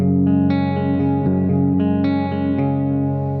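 An electric guitar plays a clean tone through a BK Pickups Polymath bridge pickup, with sustained ringing chords and several plucked attacks, loud and close with no talking.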